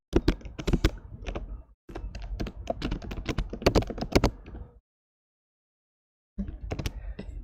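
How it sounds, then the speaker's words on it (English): Bursts of rapid computer keyboard typing, close and clear, with crisp irregular key clicks in three runs separated by silent pauses. "Are you getting huge sound when I was typing?"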